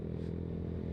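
Yamaha Mio Sporty motorcycle fitted with a VND exhaust, idling with a steady, smooth low rumble and faint clatter, close and continuous throughout.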